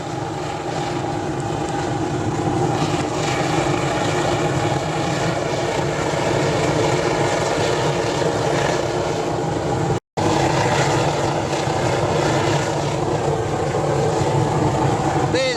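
An oil burner furnace roars continuously and loudly while melting aluminium car parts such as manifolds and gearbox cases, a dense steady rumble with one momentary break.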